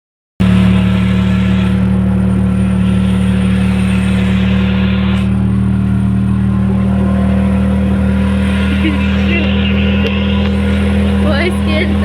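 Auto rickshaw engine heard from inside while riding toward the station, a loud, steady, droning putter that runs throughout, with faint voices and traffic noise mixed in.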